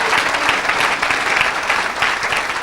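A church congregation breaks into steady, dense applause with scattered cheering for Jesus, a full room of clapping hands sustained throughout.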